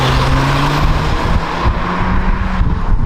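A modified exhaust on a Ford Fiesta ST droning and revving nearby, a loud steady exhaust note rising and falling with wind rushing past.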